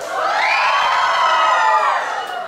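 A large festival crowd at the San José Las Flores corn festival in Chalatenango roars and shouts in a sustained, loud cheer lasting about two seconds before tapering off.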